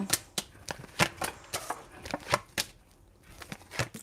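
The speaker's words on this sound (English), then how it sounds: "Okay, I'm going to shuffle one more time." A deck of tarot cards is shuffled by hand, producing a run of crisp, close papery slaps and riffles in an irregular rhythm, fairly soft and with no talking.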